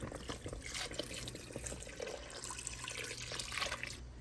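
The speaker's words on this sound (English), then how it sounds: "I'm gonna add about a cup of water." About a cup of water poured into a pot of bacalao codfish stock for Puerto Rican soup, a steady soft splashing stream for a few seconds, alone without talk.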